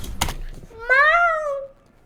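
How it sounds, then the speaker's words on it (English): Single drawn-out cat meow, rising then falling, heard close and clear after a short knock or thump, with a little background noise around it. "That was a cat. They know that was a cat."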